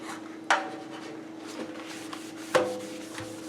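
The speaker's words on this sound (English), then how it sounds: "I'm using this rubber toothbrush end. And that one spot that I scrubbed off, I can just feel the thickness of the caulk, and it's coming off." A kitchen sink being scrubbed with a rubber toothbrush end to lift off old caulk, heard as faint, close rubbing broken by two sharp knocks against the sink.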